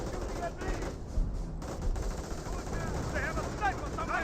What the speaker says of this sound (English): M2 now firing away.